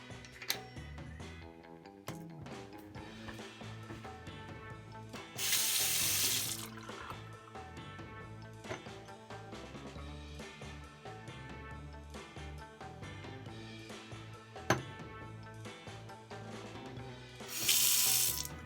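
A Moen Weymouth bathroom faucet gushes twice in short bursts of running water, separated by a long stretch of clicks, light knocks and a steady tonal background.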